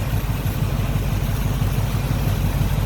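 A Goodwrench 350 V8 in a 1986 GMC Jimmy K15 4x4 idles smoothly and steadily up close, its low, even pulsing rumble continuous throughout with no voices.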